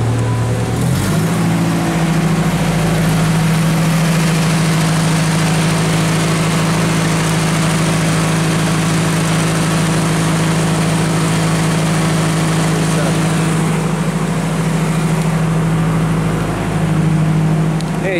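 Engine of a Genie lift running steadily after a jump-start, a loud continuous low idle drone with a strong steady hum, close by and without talk throughout.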